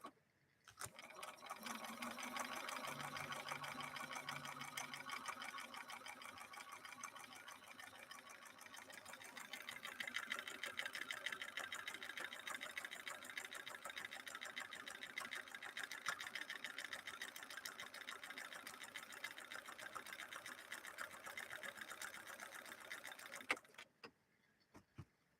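A Bernina Record 930 Electronic sewing machine runs steadily for about 23 seconds, its needle mechanism whirring at an even, rapid rhythm, close and moderately loud, before stopping abruptly.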